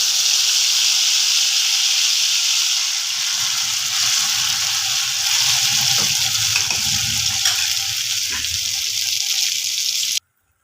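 Cashew and nut paste dropped into melted dalda in a pan, a steady loud sizzle and hiss throughout with low bubbling underneath, cutting off suddenly at the end.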